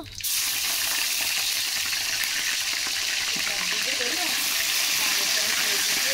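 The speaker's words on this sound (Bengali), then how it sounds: "এখন আমি যে বাকি মাংসগুলো আছে সেগুলো দিয়ে ভেজে নেব" Chicken pieces fry in a home kitchen pan, a steady loud sizzle that starts abruptly and continues unbroken throughout, with faint stirring and clatter mixed in.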